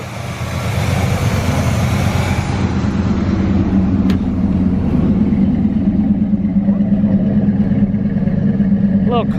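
A 1979 Chevrolet C10 pickup engine idles loudly and smoothly right after an intake swap, a steady close rumble with no stumbling, joined by people talking nearby.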